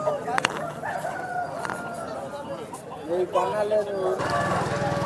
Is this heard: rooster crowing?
yes